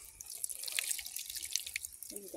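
Natural spring water running from a plastic pipe trickles and patters quietly in a steady flow, with small bright splashes and drips close by.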